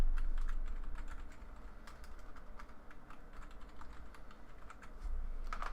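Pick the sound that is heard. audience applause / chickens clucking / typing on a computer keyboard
typing on a computer keyboard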